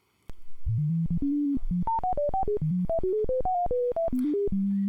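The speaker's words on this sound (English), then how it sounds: "I'm just wiggling the mouse forward and back, and we've got a nice R2-D2 sound" A synthetic sine wave tone, scrubbed back and forth with a mouse, warbles rapidly up and down in stepped pitches, producing chirpy robot-like beeps and whistles, loud and alone.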